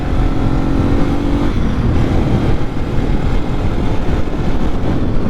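Yamaha TW200 dual sport motorcycle cruising in fifth gear at about 40 mph, a steady loud engine drone mixed with heavy wind buffeting throughout, no pauses.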